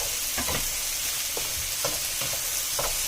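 Vegetables sautéing in a soup pot for gnocchi soup, cooking until translucent, a constant loud sizzle with several brief stirring scrapes scattered through it, close up and with no one talking.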